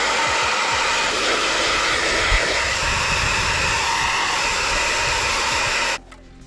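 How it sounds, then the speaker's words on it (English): A hairdryer blows steadily and loudly close up, clearing dust off an inflatable boat, a constant whooshing roar that cuts off abruptly near the end. "we're just going to be using the hairdryer"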